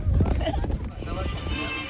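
A horde of horses galloping at the charge with riders in Siberia, steady drumming hoofbeats and occasional whinnies, loud and close, with voices over them.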